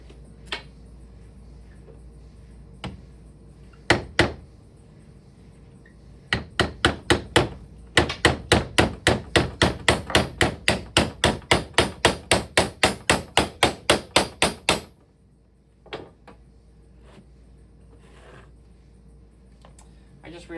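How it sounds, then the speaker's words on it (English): Pages being hammered onto book spines during codex assembly: a few scattered knocks, then a long run of steady, evenly spaced sharp taps, loud and close, ending in quiet with a couple of stray knocks. "don't actually hammer them on like that"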